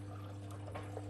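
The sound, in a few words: Hoover H-WASH 700 washing machine water on final rinse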